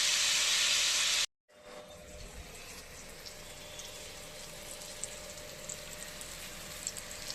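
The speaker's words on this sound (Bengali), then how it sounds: "ভাজাটা হতে থাক, লাল কড়মড়ে করে ভাজবো।" Bitter gourd slices fry in a pan until red and crisp, giving a steady, close sizzling hiss that keeps going after a brief drop at the start, with no voices over it.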